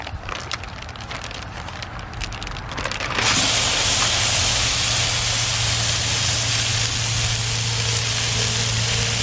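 Meat for a cheesesteak hits a hot pan and bursts into a loud, steady sizzle that starts abruptly and holds constant to the end.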